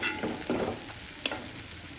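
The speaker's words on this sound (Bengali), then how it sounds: "এখন সবগুলো উপকরণ একসাথে ভালো করে মিশিয়ে নিতে হবে।" Spices, turmeric and quail eggs stirred together in a hot pan, with a soft scraping of the spoon and a light sizzle running steadily underneath, close and fairly quiet.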